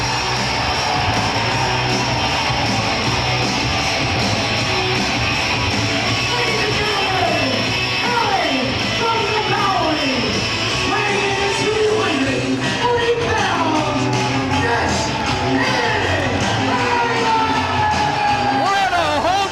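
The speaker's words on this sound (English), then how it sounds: "This Philly crowd giving a standing ovation for one of their favorite sons in the business" Philadelphia wrestling crowd on its feet at a 3PW anniversary show, a loud continuous roar of cheering and yelling that fills the arena, with a commentator speaking over it.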